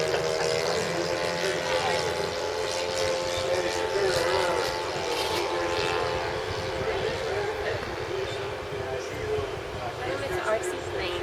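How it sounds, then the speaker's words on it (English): A remote-control model plane flies at a WW1 airshow, its small engine giving a steady, whining drone with a sustained tone under people talking nearby. "this is the little RC plane of a Marine Saunier"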